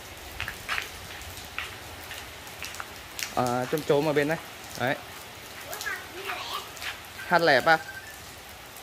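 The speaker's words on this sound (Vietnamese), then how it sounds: "mưa rất là lớn luôn mọi người ạ" Steady heavy rain hisses outdoors around a rambutan tree in Nghe An, Vietnam, a constant wash under a person talking nearby.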